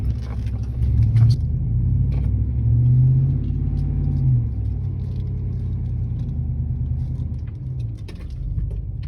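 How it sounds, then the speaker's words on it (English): A Ram 1500 pickup in 4-wheel low drives off-road and sinks into a deep rut with all four tires spinning: a loud, steady, low engine rumble swells and eases throughout, with no talking. "I have it in 4-wheel low and all 4 tires were spinning, barely making any progress for at least 3 or 4 feet like that."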